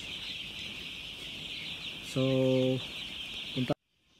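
Broiler chickens in a poultry house, a steady high chatter of many birds with a short, louder clucking call close by, and a brief cluck just before the sound cuts off.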